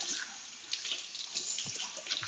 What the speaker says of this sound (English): There's some water.